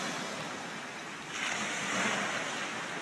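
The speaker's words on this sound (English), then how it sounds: "Here comes the wave." Ocean surf on a beach, a steady broad rush of water that swells louder midway as a wave washes in, with some wind noise.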